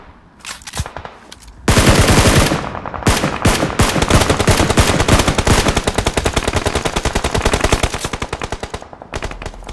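Sustained automatic gunfire in PUBG Mobile, loud and close, with a short opening burst followed by long rapid strings of shots that barely pause before cutting off.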